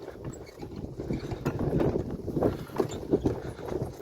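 A draft horse mare's hooves clopping at a slow, uneven pace outdoors in Ukraine's Ternopil region, with wind buffeting the microphone in the background.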